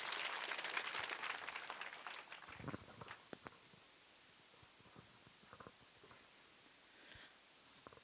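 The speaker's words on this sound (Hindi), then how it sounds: "जोरदार तालियों के साथ स्वागत कीजिए।" An audience at an event honoring a newly selected Rajasthan civil service officer gives faint, distant applause that swells briefly, then thins into scattered individual claps before fading out.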